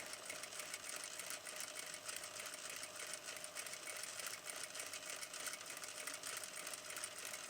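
Sewing machine stitching fabric close to its raw edges, a steady, fairly quiet mechanical whir with a constant tone that runs without a break.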